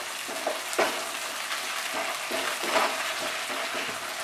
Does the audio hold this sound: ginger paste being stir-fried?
yes